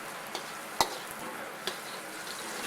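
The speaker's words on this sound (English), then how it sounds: "It's good to get underneath the garlic with the spatula, turn it over occasionally so that it browns more evenly" Garlic sizzles steadily in a frying pan, with two sharp spatula scrapes and taps against the pan as the cloves are turned over.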